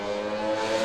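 Drag race cars holding high revs at the start line in pre-stage, a loud sustained engine drone with steady harmonic tones, no pauses.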